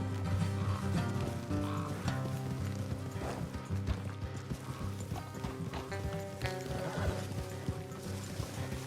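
Horses galloping in Red Dead Redemption 2, with rapid clip-clop hoofbeats in steady rhythm under a droning music bed, plus an occasional whinny.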